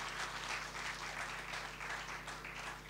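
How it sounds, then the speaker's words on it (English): Sustained audience applause fills a conference hall as a photojournalist is welcomed on stage, a steady dense wash of clapping with no gaps. "let's give him a warm applause"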